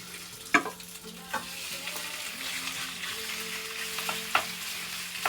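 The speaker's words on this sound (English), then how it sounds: "So it should sizzle as soon as it goes in." Steady frying sizzle of chicken in a hot wok with stirring clatter, a few sharp utensil knocks against the pan standing out at moments; no talking.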